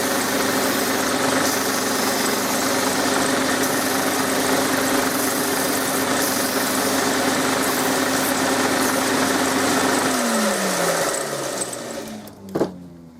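A Hegner disc sander runs with a steady, loud motor drone while its disc is being cleaned, then switches off and winds down near the end with a clunk.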